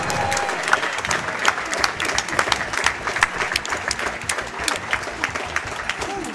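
A large convention-hall audience at a speedrunning marathon breaks into sustained, dense applause with scattered cheers, steady and loud throughout with no clear break.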